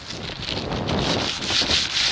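Plastic baggie rubbed back and forth over rough, contaminated car paint, heard as a loud, gritty scratching rasp in repeated strokes, partly blended with outdoor wind noise.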